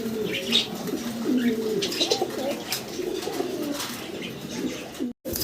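Fancy pigeons coo close by at a farm, repeated rolling coos with a few chirps and a brief flutter of wings, fairly loud, with a sudden short dropout near the end.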